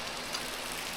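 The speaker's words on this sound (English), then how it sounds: "It's a rainy afternoon." Rain pouring on a rainy afternoon, a dense, even hiss of falling drops, steady and fairly faint across the whole moment with no voices.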